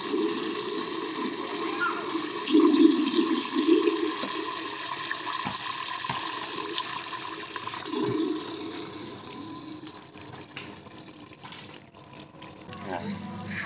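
Pressurised water gushes steadily into a catfish pond filter tank, a continuous rushing flow with splashes and brief knocks that softens toward the end, with someone talking over it.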